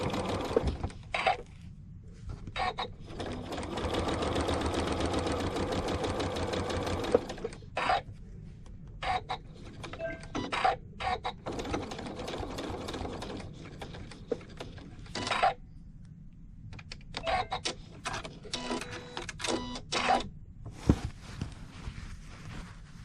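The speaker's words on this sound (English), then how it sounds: "When I sew with a stitch length of 2. I sew from the center approximately." A sewing machine with a walking foot stitches hexagon quilt blocks in short bursts, one long steady run near the start and several choppy starts and stops afterward, close and clear with no talking.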